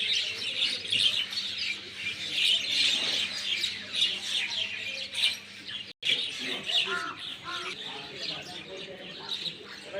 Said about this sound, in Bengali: এদের কিচিরমিচির শব্দ শুনতে এই নির্জন ভোরে খুব ভালো লাগতেছে